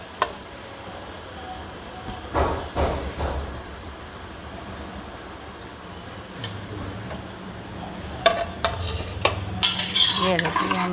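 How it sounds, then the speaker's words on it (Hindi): Soaked, washed lentils tipped into a pot for haleem, giving a few loud scraping, clattering and stirring bursts of spoon against metal, then sharper clinks and a brief sizzle toward the end. "ये देखिए, हमारी दाल शामिल कर दी।"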